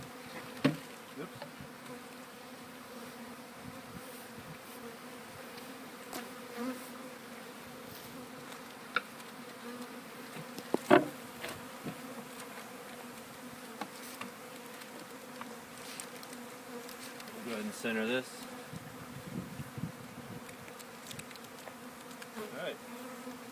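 Honey bees buzz steadily around a hive being installed, a continuous close drone with scattered knocks and handling sounds, while someone speaks briefly.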